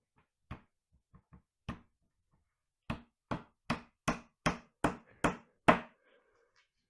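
A series of sharp, solid hammer blows on wood during bedroom furniture assembly, a few scattered taps followed by eight or so steady, evenly spaced strikes, close and fairly loud.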